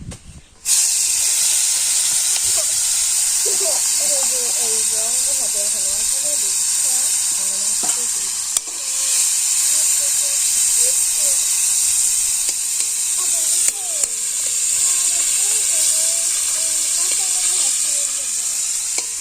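Fish sizzling in a pan over a village cooking fire, a steady bright hiss of hot oil running throughout, with a voice talking intermittently over the frying.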